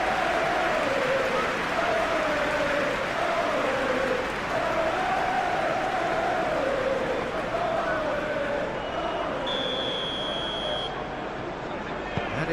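A stadium crowd in the PES 2021 football game roars in a constant, dense wash of cheering that rises and falls in waves throughout, with a brief electronic tone near the end.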